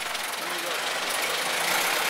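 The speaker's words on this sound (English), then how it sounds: "You can hear the clutch problem we have." A 1931 Ford Model A engine with a clutch problem idles steadily, a loud continuous hiss-heavy running noise with faint knocking, while people talk nearby.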